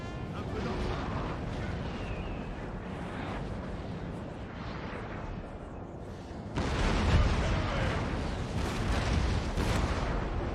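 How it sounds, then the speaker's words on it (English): Artillery shells landing in the video game Napoleon: Total War, a dense, continuous rumble of distant cannon fire and impacts that swells louder partway through, with no distinct single blasts standing out. "I guess there are a few shots landing."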